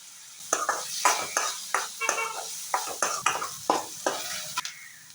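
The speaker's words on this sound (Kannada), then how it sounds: "ನೀರುಳ್ಳಿ ಚೆನ್ನಾಗಿ ಫ್ರೈ ಆಗಲಿ." Two medium onions, with curry leaves, fry in a pan for an egg starter. A steady soft sizzle runs under repeated sharp scrapes and clinks of a spoon stirring against the metal, about a dozen strokes in an uneven rhythm.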